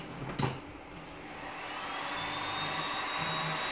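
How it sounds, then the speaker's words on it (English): Heat gun blowing over a resin pour in a cold shop, a steady rushing fan hiss that builds after a brief thump and holds close and constant. "now here comes the heat gun."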